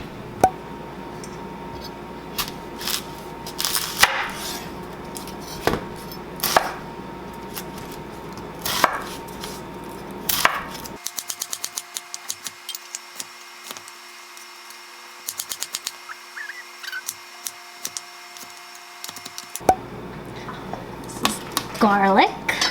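Vegetables being chopped on a wooden cutting board for winter squash soup, with scattered knife knocks, clinks and handling noises in a quiet kitchen, all irregular and fairly close.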